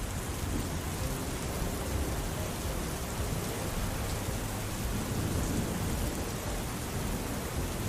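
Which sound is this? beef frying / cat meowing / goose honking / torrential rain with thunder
torrential rain with thunder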